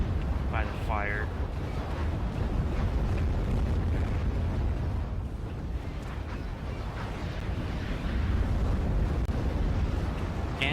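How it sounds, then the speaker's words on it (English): A strategic nuclear weapon detonates in the Act of Aggression strategy game, producing a dense, sustained rumbling blast that keeps running as buildings are destroyed. Someone talks over it throughout. "Another nuclear weapon, well, strategic weapon."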